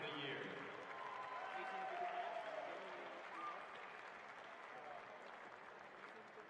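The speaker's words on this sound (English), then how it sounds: "please join us now as we honor with a warm round of applause Andrea Betts of Provo as a 2014 Superfan of" Steady crowd applause filling a high school basketball state tournament gym, a continuous wash of clapping at even loudness that slowly fades a little toward the end.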